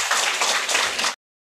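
A church congregation at a prayer centre bursts into loud, dense clapping for about a second before it cuts to silence.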